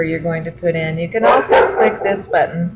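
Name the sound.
dog barking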